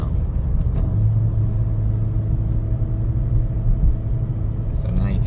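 Steady low road and engine rumble heard from inside a 2023 Acura Integra cruising in fourth gear around 2,500 RPM, a continuous even drone with faint tonal hum and no pauses.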